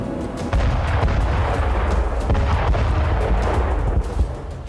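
Explosions from an attack on a Russian TOS-1A rocket launcher in Belgorod, heard as loud continuous rumbling blasts with crackling bursts layered throughout, close and heavy, with no voices.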